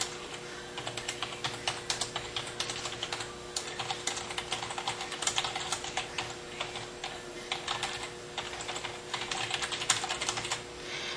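Steady run of rapid key clicks from a computer keyboard as contact information is typed into a flyer layout, quiet and continuous for the whole stretch with brief pauses, no voices.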